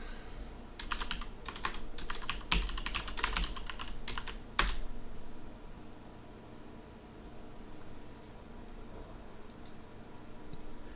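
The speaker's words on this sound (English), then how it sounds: "I'll just type in my password" A password tapped out on a computer keyboard: a quick run of close, crisp keystrokes with one heavier key hit at the end, then quiet room hiss with a few faint stray clicks.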